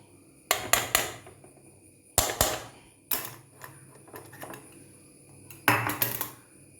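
Chopped leaf shoots go into a pan of beans for a Kerala thoran, heard as four separate clattering bursts of metal utensil against the pan, close and sharp with short gaps between.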